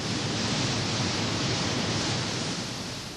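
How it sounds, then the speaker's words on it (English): Multiple water jets spray onto hot steel strip racing at 40 miles an hour down a long run-out table in a rolling mill, making a loud, dense, steady rushing hiss that fades slightly at the end. "the strip emerges at a roaring 40 miles an hour down a long run-out table over which multiple water jets are playing"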